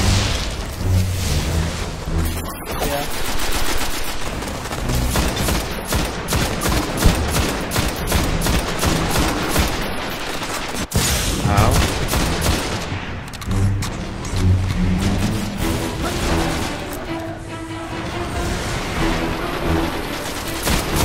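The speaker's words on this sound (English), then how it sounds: "Tiny explosion" Explosions and rapid gunfire from the video game Destiny: dense bursts of automatic fire and booming blasts run continuously at high volume throughout.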